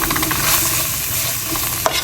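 Onions and beef fry with a little tomato paste in a pan for a Bangladeshi Eid dish while a spoon stirs through them. A steady close sizzle runs under repeated scraping strokes, with one sharp clink near the end and no talking.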